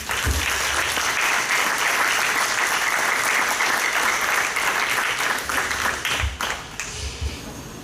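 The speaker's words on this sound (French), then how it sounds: "on peut l'applaudir" Loud, dense applause fills a municipal council meeting in Cadenet as a new councillor is welcomed, steady for most of its length before thinning slightly, with a few thumps near the end.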